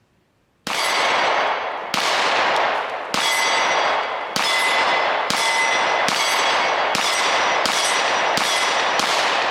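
A Taurus TS9 pistol fired at a shooting range, nine sharp, loud shots in a steady rhythm about a second apart, each ringing briefly before the next, with no voices.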